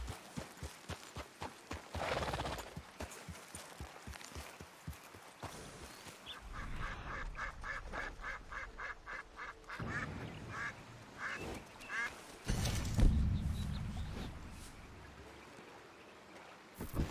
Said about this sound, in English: Some birds right there, but I missed them.